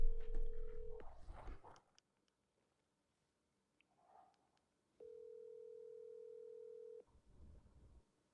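A telephone call being placed: a loud, steady electronic phone tone sounds for about a second, then near silence, then the same tone again for two seconds, with muffled handling noise at the start and end.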